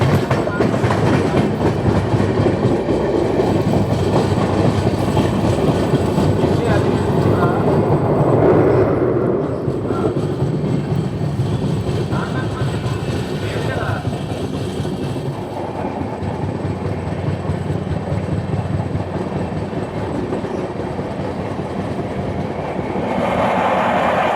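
Passenger train passing on an Indian railway, a loud continuous rumble with rhythmic wheel clatter that rises and falls, with a voice talking over it.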